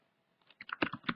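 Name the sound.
typing a command on a computer keyboard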